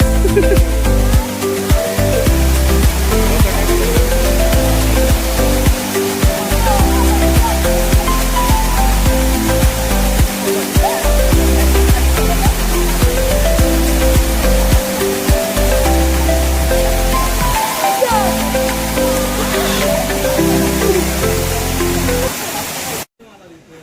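A waterfall on a trekking route near the Kondana caves roars loudly and continuously, its dense wash of water noise filling the whole stretch, with voices talking over it until it cuts off at the end.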